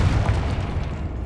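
A Confringo fire spell bursts in Hogwarts Legacy, a short heavy boom with a rumbling low crackle that fades out over about a second.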